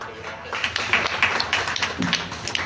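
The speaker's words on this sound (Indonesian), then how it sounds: "Berikan tepuk tangan yang paling meriah dong." A studio audience at an Indonesian talk show applauds for a guest doctor, the scattered claps and taps coming moderately loud and uneven over a short stretch.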